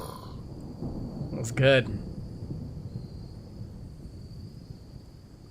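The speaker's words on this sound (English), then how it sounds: "We got a bit of a lightning storm going on." Thunderstorm in the video game RimWorld: a single loud rumbling thunder burst swells briefly amid faint steady background noise, with a voice speaking quietly around it.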